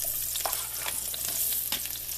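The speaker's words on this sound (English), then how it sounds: "You can hear it sizzle." Pre-boiled cubed sweet potatoes sizzle and crackle steadily in hot grease in a pan, with brief pops and stirring clicks and no voices.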